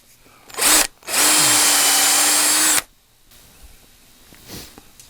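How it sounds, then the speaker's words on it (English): A power drill whirs while a cork grip is fitted onto a custom fishing rod, a short burst followed by a longer steady high-pitched run close up, then quiet handling noises. "If you got the drill like this, not quite. I want it to fit snug, but not to force that cork because the cork will split."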